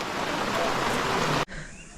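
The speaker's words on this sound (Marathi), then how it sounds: "एक दहा मिनटं थांबलेला पाऊस आणि आता परत आलाय" Unseasonal rain returns over a Konkan village, a dense, even hiss of falling drops that cuts off abruptly partway through, leaving a quieter background.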